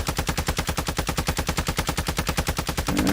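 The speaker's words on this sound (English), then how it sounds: "Just practicing this with my gun to see what the recoil is like." Rapid automatic fire from a Hemlock rifle in a video game, a steady stream of sharp, evenly spaced shots rattling on at close range for about three seconds, with no voices over it.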